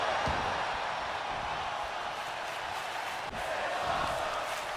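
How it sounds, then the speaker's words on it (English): A virtual arena crowd in the WWE 2K25 wrestling game roars in appreciation, a dense, steady wash of cheering sustained throughout at moderate loudness, with a faint thud midway. "with the crowd showing their appreciation once again for this incredible matchup we're seeing"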